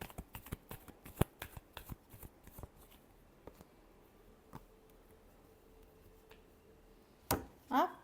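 Tarot cards are shuffled close up in quick riffling bursts that leave a string of crisp flicks and taps, then go quiet, followed by a louder rustle at the end.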